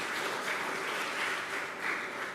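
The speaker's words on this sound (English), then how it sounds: "So, a big round of applause for Professor Felicia." An audience at a hydrogen metallurgy symposium claps for a speaker, a dense, even wash of applause sustained throughout at moderate distance.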